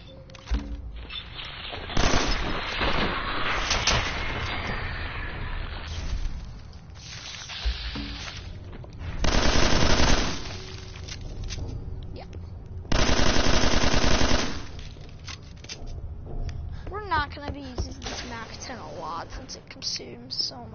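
Mac 10 submachine gun firing in a video game, with long sustained bursts of rapid automatic fire and several shorter volleys over a dense game soundscape, while a voice talks over much of it.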